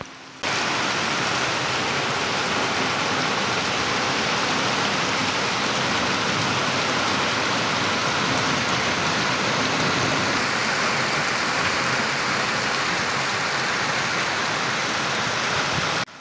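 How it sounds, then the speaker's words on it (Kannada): Heavy rain pours steadily beside a canal embankment on the Kaveri river, with the canal running full, a dense, unbroken wash of hiss and rushing water that stays loud and constant throughout, with no voices. "ಇಲ್ಲಿ ಎಷ್ಟು ಮಳೆ ಬರ್ತಿದೆ ನೋಡಿ, ಕಾಲುವೆ ತುಂಬ ಹರಿತಾ ಇದೆ"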